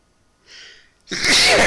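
A quick sharp inhale, then one loud, close sneeze bursting out at the end.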